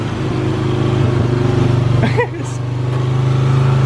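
A small dirt bike sits on the back of a truck, its engine idling noticeably high with a steady, close, continuous drone, a brief dip midway, while people talk nearby.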